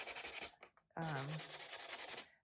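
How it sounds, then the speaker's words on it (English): Sandpaper rubbed across a paper craft piece to distress it, a quiet, close scratchy rasping in short strokes: a brief burst, a pause, then a longer steady rub. "if you want to do some distressing, this is what I did. I just took any kind of sandpaper."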